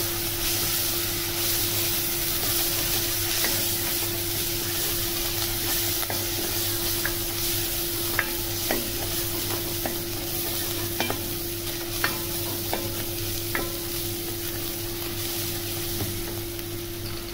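Steady sizzling of garlic ginger paste frying in a hot pan, with occasional stirring scrapes and a constant low hum in the background.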